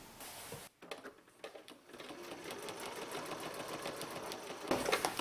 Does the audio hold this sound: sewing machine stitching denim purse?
yes